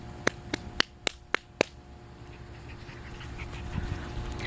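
Puppies at play pant quickly in a string of six sharp, close puffs over the first two seconds, followed by softer, quieter breathing and rustling.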